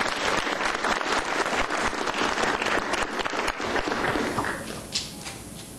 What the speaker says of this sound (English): So let's give both of them a round of applause.